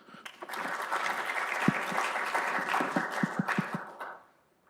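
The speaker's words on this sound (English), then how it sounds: "Let's start with a round of applause." Audience applause at a critical minerals panel during a research conference, a sustained wash of clapping that swells, holds for several seconds with a few louder individual claps, then fades out.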